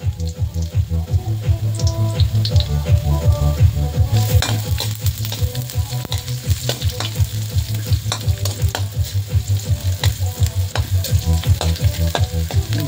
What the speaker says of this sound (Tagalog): Pag lumabas na yung bango ng bawang, isunod na natin ang ating sibuyas.